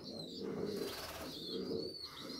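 A pigeon that has just returned from a long flight coos softly in low, repeated murmurs, with faint rustling nearby and no talk.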